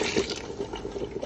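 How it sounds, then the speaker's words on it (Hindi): Boiled water pours into a pot of beef nihari, a steady close liquid splash and trickle running throughout with no talk. "तो चलिए अब हम इसमें ऐड करते हैं पानी उबला हुआ।"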